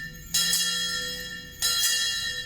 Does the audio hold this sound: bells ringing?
yes